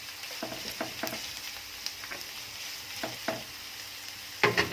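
Chicken breast cut into small pieces frying with wilted onions in a pan for a potato béchamel bake, steady sizzle with scattered crackles and stirring clatter, a louder burst of spattering near the end.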